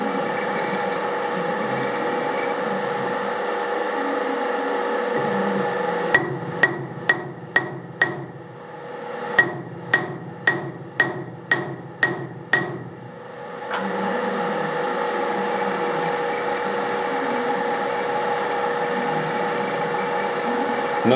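A hammer lightly taps a very tight lathe chuck to nudge it into alignment: about a dozen sharp, evenly spaced taps in two quick bursts over a steady machine hum.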